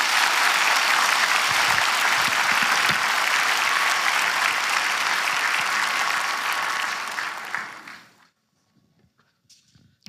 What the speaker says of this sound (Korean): 큰 격려 박수 한번 해주세요.